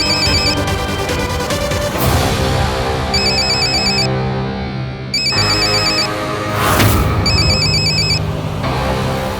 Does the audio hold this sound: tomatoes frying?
no